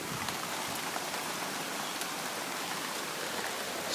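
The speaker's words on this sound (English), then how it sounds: "I don't want to be out here in the rain with my iPad getting drenched" Steady rain pours outdoors in North Georgia, a dense, even wash of hiss with scattered sharper drop impacts, continuous and fairly close throughout, with no voices.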